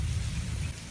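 Heavy rain pours steadily in a thunderstorm, a dense loud wash of noise with a deep low rumble of thunder underneath, played back from a video.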